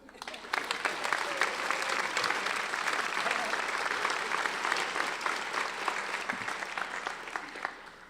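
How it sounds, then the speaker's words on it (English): An audience at a university nursing commencement ceremony applauds, a broad, sustained wash of many hands clapping that rises quickly and holds steady for several seconds. "Can we please have a round of applause for them?"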